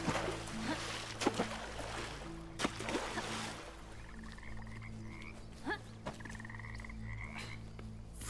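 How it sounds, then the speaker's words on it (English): Deep croaks from a frog in Bramble: The Mountain King repeat over a low, sustained ambient drone, with scattered sharp clicks and faint trickling water sounds in a dark forest setting, no speech. "Oh, that's a frog."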